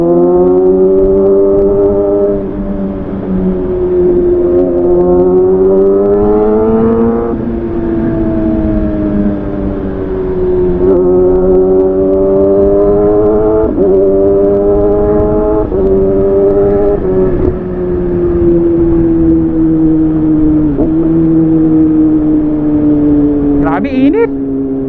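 A Kawasaki Ninja ZX6R motorcycle engine while riding, loud and close, rising through gears in repeated climbing pitches with brief dips at each shift, steady roar throughout.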